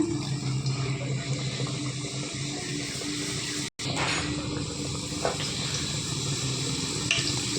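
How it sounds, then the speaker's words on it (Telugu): Puri dough rounds frying in hot oil give a steady, close hiss and sizzle that runs evenly throughout, with a brief dropout near the middle and no talk. "ఆయిల్ అయితే హీట్ ఎక్కింది, పూరీ వేసుకుందాము."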